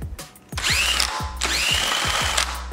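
Cordless drill fitted with a Nordic Legend ice auger adapter bores through ice for ice fishing, whining in two sustained bursts with rhythmic chattering grind, close and loud, no talk.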